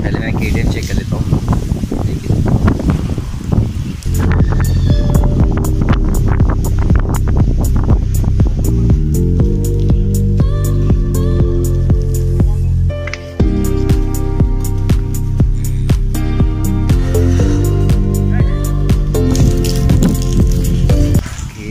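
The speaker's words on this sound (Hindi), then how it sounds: "बहुत ज़ोर की हवा चल रही है" Strong wind from Cyclone Nisarga in Pune roars and buffets the microphone with loud, continuous low rumbling gusts, joined midway by steady tonal sounds.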